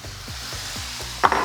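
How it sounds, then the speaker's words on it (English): Scrambled eggs and cauliflower fried rice sizzle in a cast iron pan, with a steady frying hiss, several rhythmic scraping stirs of a utensil, and a sharper clink of metal at the end. "Ooh, that sizzle."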